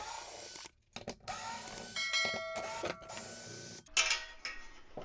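A 3/8 inch socket ratchet backing lag bolts out of wooden wall studs while taking down a TV mounting bracket, giving rapid ratcheting clicks and grinding in several bursts broken by short pauses.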